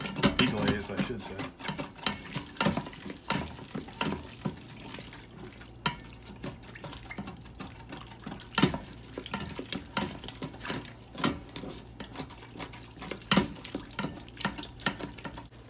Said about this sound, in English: So let's move this around until we get this completely glazed.